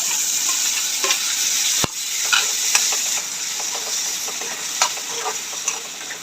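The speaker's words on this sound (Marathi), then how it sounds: "एक चमच हळद टाकून घेऊ आणि बारीक चिरलेला टोमॅटो टाकून घेऊया" Finely chopped tomato and a spoonful of turmeric fry in a pan for Maharashtrian besan pithla, making a loud, constant sizzle with frequent scraping and tapping from stirring.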